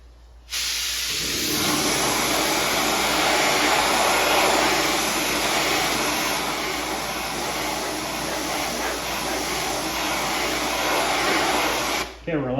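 A spray gun lays clear coat onto the paint of an Oldsmobile Vista Cruiser, giving one steady, loud airy hiss that runs unbroken for about eleven seconds and then cuts off sharply.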